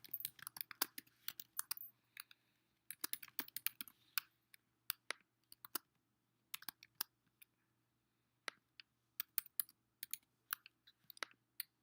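Contact details being typed on a computer keyboard: quiet, irregular bursts of crisp keystrokes separated by short pauses, close by in a silent room.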